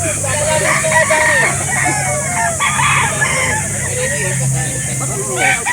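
Sweater Gilmore gamefowl roosters crowing repeatedly and loudly at a poultry sale in Calauan, Laguna, with overlapping cock-a-doodle-doo calls and clucking from nearby birds under steady background chatter.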